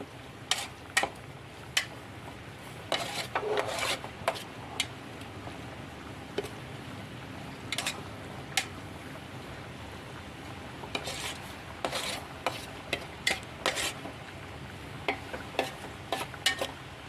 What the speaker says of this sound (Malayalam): ഇനി നമുക്ക് നന്നായി ഇളക്കി കൊടുക്കണം നന്നായി ഇളക്കി ഒഴിപ്പിക്കാം